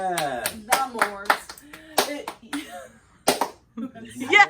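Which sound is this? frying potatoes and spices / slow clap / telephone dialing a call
slow clap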